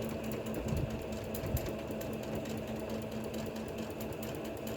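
Sewing machine stitching fabric while making Santa Claus bermuda shorts and a t-shirt, a steady close, continuous mechanical whir with a constant hum running throughout.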